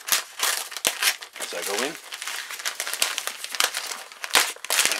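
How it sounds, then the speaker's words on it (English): A knife cuts through packing tape to open a cardboard parcel, a run of close crinkling and scratchy tearing bursts under a person's nearby speech. "Just cutting the tape"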